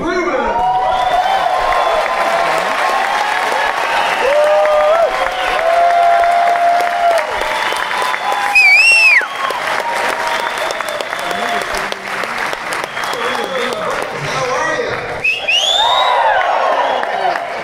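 Loud, sustained applause and cheering from a large lecture-hall audience greeting the host, with scattered whistles rising above dense clapping throughout.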